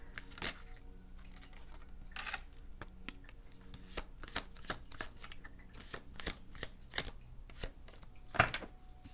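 A deck of tarot cards is shuffled in a string of soft, papery riffles and taps that come in irregular bursts, close and moderately quiet, with no talking.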